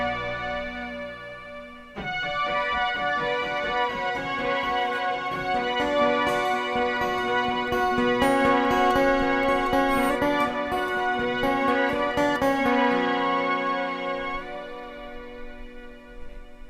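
Sustained synthesized string chords from a Boss SY-1 synth pedal swell and hold, bright and layered, with a soft background before the chord enters and fades at the end.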